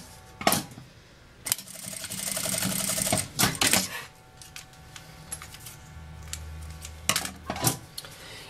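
A sewing machine stitches across a strap fitted with a half ring, heard as short separate bursts of clattering stitching, with pauses and handling clicks in between.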